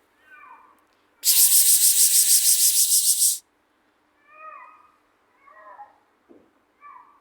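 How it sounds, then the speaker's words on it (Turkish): A white cat meows several times in short, separate calls, interrupted once by a loud, steady scraping or rubbing noise lasting about two seconds. "Beyaz kedi."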